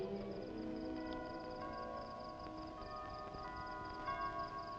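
A church bell rings out eleven o'clock in Majorca, faint and distant, its sustained tones layered and lingering over a low background hum with no one talking.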